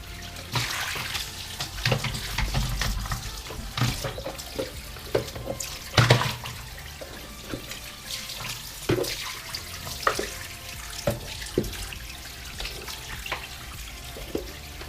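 Tap water runs into the dirty water container of a Karcher FC5 hard floor cleaner as it is rinsed, with gushing and splashing that rises and falls and sharp sloshes as the container is moved under the stream.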